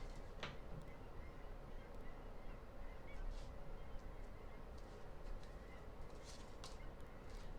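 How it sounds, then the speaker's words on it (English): A pet bird squawks and honks in a few sharp, brief calls scattered over a faint, steady background hum in a quiet room, with no talking. "the bird's going to squawk because the alarm is going off in my son's room"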